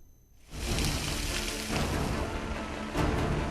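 Heavy monsoon rain in Uttarakhand pours down as a steady, dense, loud wash of noise that starts abruptly and continues without pause, with a few louder surges.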